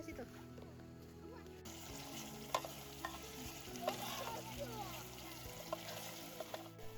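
Instant spice paste sautéing with added spices over a camp stove outdoors, a soft crackling sizzle with scraping stirs and clinks, while voices talk nearby.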